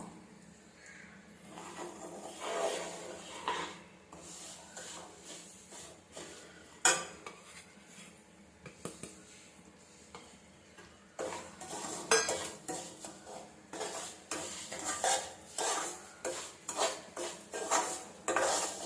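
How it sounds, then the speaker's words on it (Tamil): Semolina roasting in melted ghee in a pan for a Srirangam-style prasadam, stirred continuously, with steady scraping of a utensil against the pan and clinks of metal, loud and close, with no talking. "இந்த கப்பில் ஒரு கப்பு ரவை எடுத்து வச்சுருக்கேன் அதை இதில் போட்டு அப்படியே வறுத்துக்குவோம்"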